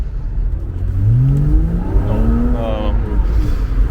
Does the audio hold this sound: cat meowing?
no